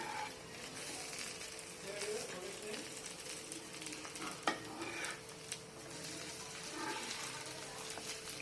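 Vegetable cutlets frying in a pan are flipped to cook the other side, a low steady sizzle with occasional scrapes and utensil clinks against the pan, faint and close.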